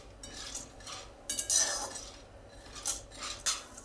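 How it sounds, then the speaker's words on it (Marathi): Peanuts dry-roasting in a pan over a low gas flame, stirred with a utensil that gives soft repeated scrapes and light clinks against the metal, quiet and close. "एकदम बारीक गॅसवर आपण शेंगदाणे आणखीन 5 मिनिट खरपूस भाजून घेतलेले आहेत।"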